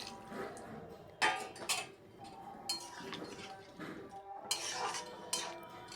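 Chickpea dal being stirred in a pot, with soft intermittent scrapes and metallic clinks of a spoon against the metal, fairly quiet and close.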